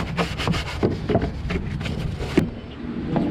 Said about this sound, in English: Scrub all these old stains out.